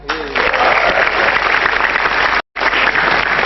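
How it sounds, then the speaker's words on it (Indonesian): Audience at a stand-up comedy show applauds the comedians, a loud, steady wave of crowd clapping that starts after a brief voice and continues to the end, broken by one short cut. "Tepuk tangan buat komik-komik kita."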